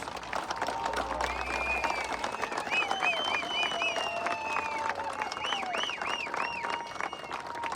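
A crowd at a justice march rally in Fındıklı applauds in a steady wash of clapping, mixed with whistles and shouting voices that rise and fall above the noise.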